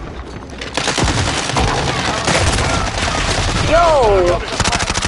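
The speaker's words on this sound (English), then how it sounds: "Bro, I'm getting shot from every angle." Loud, close automatic gunfire in a video game shooter, long rattling bursts from several directions while a voice shouts over the shooting.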